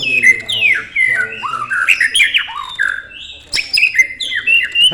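A canary chirps and twitters in close, loud, rapid bursts of rising and falling whistled notes, with a brief pause midway, and no talking over it.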